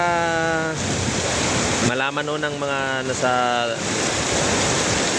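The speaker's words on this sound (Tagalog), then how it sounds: "sobrang lakas ng ulan na to May kasama pa tong hangin no?" Steady heavy rain and gusting wind roar throughout, with a person speaking over the noise in the middle.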